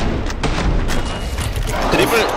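A grenade going off in the Killing Floor 2 shooter game, a heavy booming thud set among other rumbling gunfire and mechanical clatter, all fairly loud and close, with voices talking over it.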